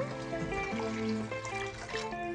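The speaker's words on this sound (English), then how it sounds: "I'm going to add my water." Five cups of water are poured into a pot holding five cups of rice for Puerto Rican white rice, a steady close trickle and splash under soft background music.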